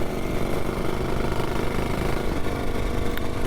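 Luke's classic British motorcycle, a BSA B44 single, runs steadily and loud at close range with an even, throbbing engine note that neither rises nor fades.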